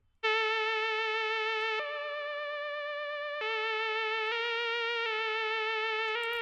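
A synth lead in FL Studio with an airy, balloon-like tone plays sustained, buzzy held notes that change pitch every second or so, clean and alone with no voices.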